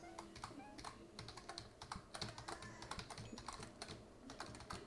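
Fast, steady clicking and keyboard tapping during a PlateUp! game session, close, crisp clicks in quick bursts over a low background hum.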